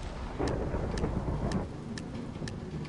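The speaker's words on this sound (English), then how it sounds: "Why is there lightning and rain?" Minecraft game audio: steady rain hiss fills the scene with low rumbling thunder beneath, and sharp ticking clicks repeat about every half second.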